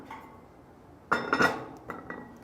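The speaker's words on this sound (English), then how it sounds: "Next, we're just going to put on a lid." A lid goes onto a 2-quart Dutch oven set inside a camp cooker, landing with a sharp metallic clank and a few rattling clinks, then a lighter tap after a brief quiet.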